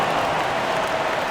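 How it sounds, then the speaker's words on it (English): Arena crowd applause in the NBA 2K25 basketball game, 76ers vs Clippers: a dense, steady wash of clapping and crowd noise that holds at an even level through the whole short stretch. "Big round of applause."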